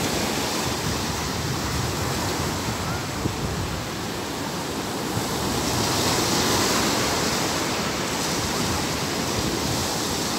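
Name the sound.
ocean waves breaking at Zambales surf beach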